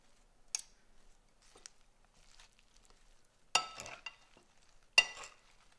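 Kale quinoa salad being mixed in a bowl, a few sparse scraping and tossing bursts separated by near silence, quiet and close.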